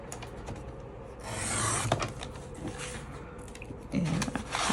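A paper trimmer slices card stock for a handmade sympathy card, giving a close, dry scraping rasp that swells in the middle and again near the end, with no talking.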